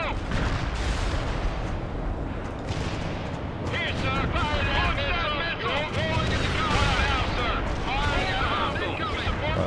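A missile launched from a Bradley fighting vehicle in the war strategy game World in Conflict, heard as a loud sustained roar and rumble of battle noise with blasts, while voices talk over it.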